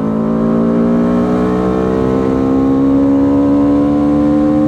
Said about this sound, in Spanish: Vamos aquí a rebasar, que sí nos los permite esta moto.